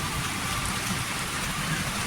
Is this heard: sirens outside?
no